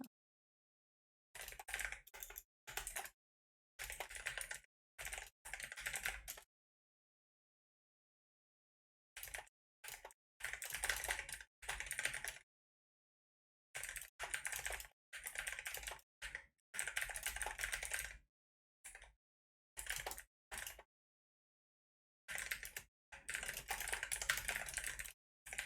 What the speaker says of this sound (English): I'm just typing generic text.